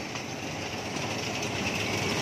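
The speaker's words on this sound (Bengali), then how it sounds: "ট্রেন আসছে" A train arriving at a station, a continuous mid-distance rumble of rolling wagons with faint rhythmic clatter and no talk.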